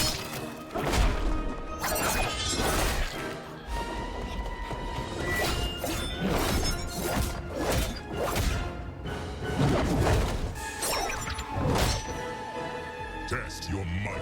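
Repeated smashing and shattering blows in Mortal Kombat 1's Test Your Might minigame, loud rapid crashes, whooshes and thuds over a steady game soundtrack, with someone talking over it.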